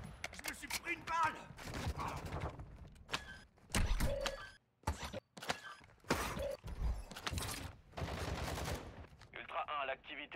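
Gunfire crackles in Call of Duty Warzone DMZ, with rapid machine-gun bursts and sharp single shots mixed with mechanical door-like clanks, played loud and dense under steady talking.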